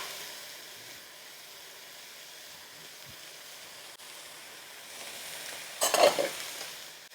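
Mushrooms, peppers and bean sprouts stir-fried in a hot pan give a steady soft sizzle and hiss, swelling into a louder burst of frying near the end, with no talking.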